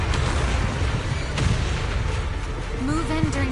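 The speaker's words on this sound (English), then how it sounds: "Move in during the gaps between explosions." Explosions in the video game Zenless Zone Zero boom in dense, continuous rumbling over a sustained noisy battle bed, with a faint tonal whine near the end.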